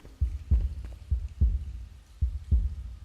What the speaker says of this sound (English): It'd be nice to get rid of this heartbeat